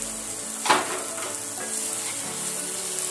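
Spices toasting in a hot pan give a sharp burst of sizzling as they go in, then settle into a steady, close frying hiss that carries on alone.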